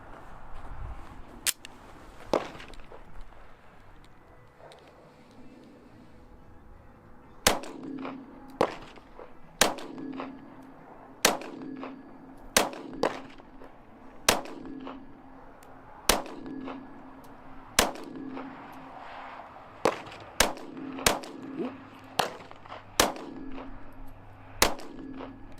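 Glock 43x pistol with a Shield Arms S15 magazine firing Igman 124 grain ammunition: a string of sharp, loud single shots with irregular gaps, some in quick pairs, ringing briefly after each.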